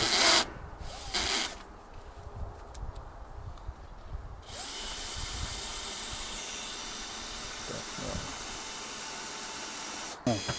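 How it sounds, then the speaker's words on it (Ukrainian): A cordless drill with a sharp bit strains as it bores 10 mm holes into concrete rings while fitting a MAX AERO aeration system, a steady grinding drone lasting several seconds after brief bursts, with no talk. "наш шуруповерт і гостре сверло мучається, але глобально робимо таких 4 отвора сверлом по 10 мм."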